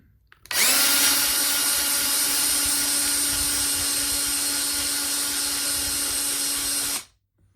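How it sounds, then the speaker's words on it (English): A power drill works on a part from a Kenmore embroidery sewing machine, spinning up abruptly into a loud, steady whine that holds for about six seconds and then cuts off. "We're going to use this drill a little bit more,"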